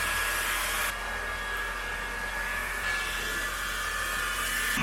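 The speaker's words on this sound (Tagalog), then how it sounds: "Pag naka-conditioner ka, ang hirap niya i-blow dry." A hair dryer blows steadily and loudly at close range while conditioned hair is blow-dried, with a slight shift in tone as the airflow moves.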